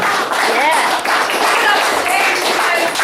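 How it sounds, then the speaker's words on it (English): Audience applause at an open mic night, a steady wash of clapping running the whole stretch with cheers and voices mixed into the crowd noise. "Thanks for applause."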